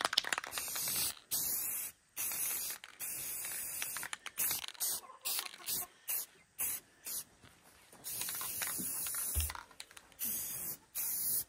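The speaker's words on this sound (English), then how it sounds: "Clear matte spray because it's shiny on there." Clear matte spray paint hisses from an aerosol can in repeated short bursts of one to two seconds, separated by brief silences, close to the microphone while a wooden rustic decor piece is coated.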